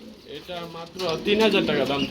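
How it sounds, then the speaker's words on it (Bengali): A pair of Maltese pigeons coos at a pigeon farm, soft throaty calls rising in the second half while someone talks over them. "দেখতে পাচ্ছেন একজোড়া মাল্টেস কবুতর রয়েছে"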